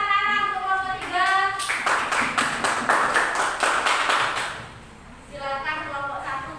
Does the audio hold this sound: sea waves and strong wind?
no